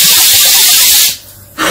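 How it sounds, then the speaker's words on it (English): A Pressure King Pro 5-litre electric pressure cooker vents steam in a loud, close, continuous hiss that cuts off abruptly after about a second, then starts again briefly. "I'm taking trepidatious, to release the steam"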